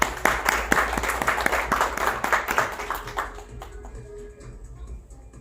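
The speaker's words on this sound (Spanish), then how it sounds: "Recibamos con un fuerte aplauso" An audience applauds a guest introduced at a literary-gastronomic reading circle in Puebla, brisk close clapping with distinct hand claps that taper off after a few seconds.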